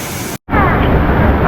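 Cascading water at Taytay Falls in Laguna, a cold, clear waterfall, roars as steady broadband rushing noise, broken by a brief near-silent cut before the loud wash resumes.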